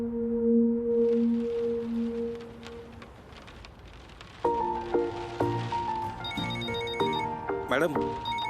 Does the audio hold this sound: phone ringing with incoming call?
yes